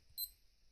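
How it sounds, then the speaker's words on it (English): A cheap tactical-style digital watch gives one short, thin, high-pitched alarm beep, faint and alone against a quiet background. "that's your alarm"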